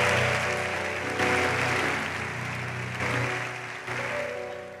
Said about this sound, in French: si quelqu'un veut applaudir, c'est là